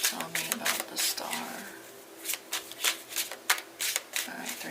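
Tarot cards being shuffled in quick bursts of riffling and snapping, several separate shuffles with short pauses between them, close and fairly crisp against a quiet room.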